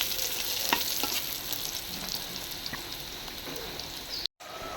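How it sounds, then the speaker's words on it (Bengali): Onions fry in a pan until browned, giving a continuous crackling sizzle with occasional stirring taps, close and steady, and a brief dropout near the end; nobody speaks. "পেঁয়াজটা বাদামি করে নেব"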